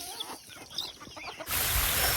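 Country chickens of a pure native breed on a farm, clucking in scattered calls over low background noise before a sudden loud, steady rush of noise takes over near the end.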